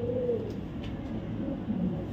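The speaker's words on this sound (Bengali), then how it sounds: "এই টপ কোয়ালিটির হোয়াইট রেসার পেয়ারটা" A pair of white racer pigeons coos softly up close, with a few low, rolling calls over quiet background hiss and no speech.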